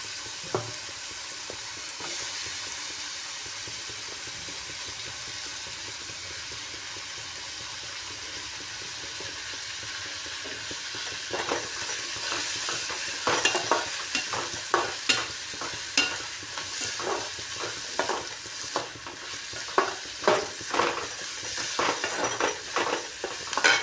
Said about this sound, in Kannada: ಹಂಗೆ ಫ್ರೈ ಆದ ನಂತರ ಬಟಾಟೆ ತೊಳೆದು ಚೆಂದಂಗೆ ಹುರ್ಕೋಬೇಕು ರೀ